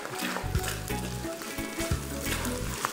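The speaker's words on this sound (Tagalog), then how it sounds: "igisa na natin itong sibuyas" Thinly sliced yellow onion sautéing in hot oil, a close, steady sizzle with the rhythmic scrape of stirring in a pan.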